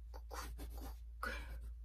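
A pen scratches out a handwritten word on paper during language practice, several faint, brisk strokes separated by short pauses, heard up close against a low background hum.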